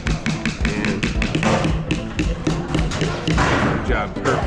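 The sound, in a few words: child hammering a nail with a hammer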